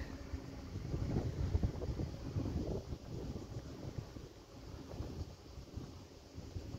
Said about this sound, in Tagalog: Mahangin din dito, masarap dito tumambay.